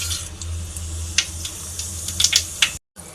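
Mustard seeds, cumin and fenugreek fry in hot oil for a tamarind curry: a steady close sizzling hiss broken by sharp crackling pops, with a brief dropout near the end.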